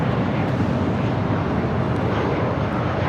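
A British Airways Airbus A380 airliner passes at LAX, its engines a broad, steady roar that stays level throughout, loud and unbroken.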